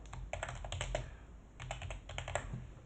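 Keys clatter in quick, uneven bursts as code is typed on a computer keyboard, close and fairly soft, with a short pause midway and no voices.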